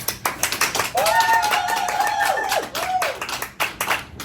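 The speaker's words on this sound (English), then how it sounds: "I would like to take a moment and give ourselves a round of applause" A small group claps by hand after school announcements, giving itself a round of applause, with scattered uneven claps under a bright voice-like tone.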